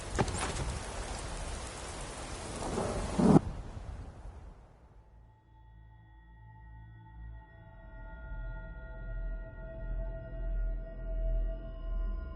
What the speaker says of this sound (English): Why is it always raining?